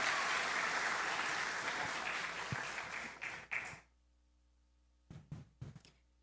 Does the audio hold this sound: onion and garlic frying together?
no